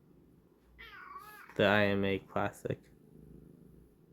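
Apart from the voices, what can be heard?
pet cat meowing and purring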